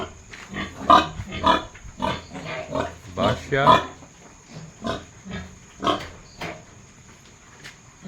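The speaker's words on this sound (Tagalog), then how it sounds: "Silipin natin muna ating mga baboy." Pigs on a farm grunt in a series of short, close bursts, some louder and clustered together, with quieter pauses between them.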